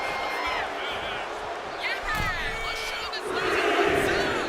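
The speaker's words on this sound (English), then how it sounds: "Jacob Fatu feeding off the crowd, feeding off their energy." A wrestling arena crowd roars and cheers in the video game WWE 2K26, a loud, rolling wall of voices that swells toward the end, with commentary voices talking over it.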